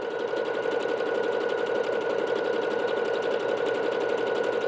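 A Bernette B-77 sewing machine runs a steady, continuous stitch, its fast mechanical whir and needle rhythm close and loud throughout, with no voices.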